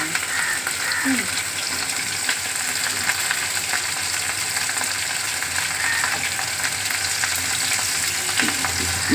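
Steady, close sizzling of whole spices (cardamom, cinnamon) frying in hot oil, a continuous crackling hiss with occasional faint clinks, no talking.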